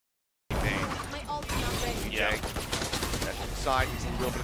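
Turret gunfire in a Valorant esports match, bursts of rapid shots repeating across the clip, mixed with other game effects and a commentator talking over the action.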